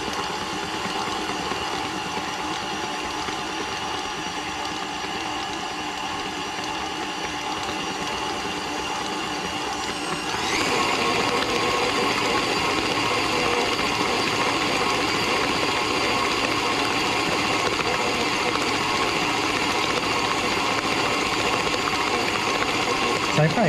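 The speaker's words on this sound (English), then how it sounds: "It's so much more fun to bake with the KitchenAid. It does all the work." A KitchenAid stand mixer beats eggs into cookie dough with a steady, close motor whir and rhythmic mechanical churning that grows louder and busier partway through, running continuously with no talk over it.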